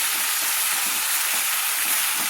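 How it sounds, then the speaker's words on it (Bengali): Eggplant, potato and lau data curry sizzles loudly in a pan, with a dense frying hiss and soft scraping as it is stirred lightly. "তাই আমি বেগুনটা লাস্টে দিলাম দিয়ে একটু হালকা করে নেড়ে নিলাম"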